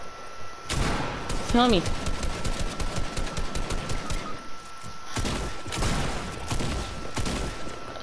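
Gunfire in the Fortnite battle royale video game, rapid shots rattling in steady bursts across most of the stretch, with players talking and shouting over them.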